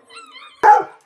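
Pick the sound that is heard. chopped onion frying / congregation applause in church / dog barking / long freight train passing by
dog barking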